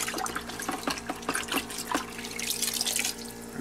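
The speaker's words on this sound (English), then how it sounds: "Now we got the big bucket of grossness. So we let that drain out." Liquid drains and trickles out of a large bucket of soaking carburetor parts from a Honda Reflex NSS250 scooter, a close splashing pour with uneven drips and gurgles throughout, no voices.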